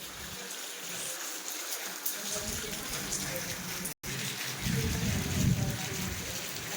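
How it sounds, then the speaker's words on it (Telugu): Summer rain falls in a steady, broad hiss of drops spattering on surfaces, close and continuous, with a short break midway and a voice talking briefly over it. "ఇప్పుడు వాన పడుతుంది"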